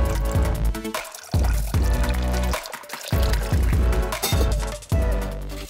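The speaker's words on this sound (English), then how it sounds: "I'm gonna put some apple cider in here." Apple cider pours in several short bursts into a cocktail shaker, splashing and gurgling close by, with brief pauses between pours.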